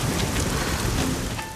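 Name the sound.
sudden heavy rain shower in a film scene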